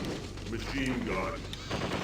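Machine gun fire in Zombie Revenge, a short dense rattle of rapid shots running continuously, with a voice talking over it.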